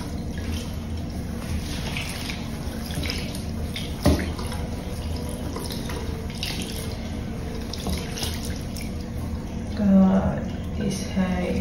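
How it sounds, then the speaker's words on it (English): Running water splashes and trickles close by, steady like a tap over a basin, drenching a curly pixie wig, with occasional drips and a voice speaking underneath. "I have to drench this hair with water."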